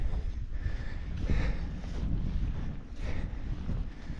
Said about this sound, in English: The wind does seem to be blowing from the top here, so I don't have much blocking that wind.